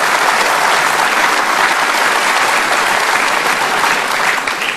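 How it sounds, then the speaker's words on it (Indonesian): A studio audience at an Indonesian talk show claps loudly and steadily, a dense unbroken wash of applause that tapers slightly at the very end. "Kita kasih tepuk tangan."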